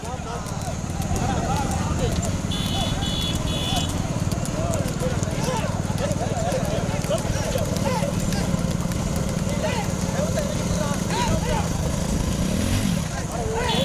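Young bulls pull carts at a bullock cart race, a dense, continuous rumble of running hooves and wheels under steady shouting from a crowd.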